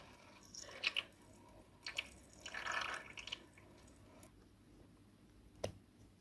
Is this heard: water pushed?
yes